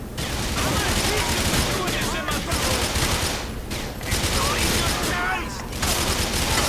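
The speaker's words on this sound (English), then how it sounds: "Don't shoot Packy." Dense, continuous gunfire from a church shootout in Grand Theft Auto IV, with overlapping rapid bursts and a machine-gun rattle that stays loud and close throughout, pausing briefly only now and then.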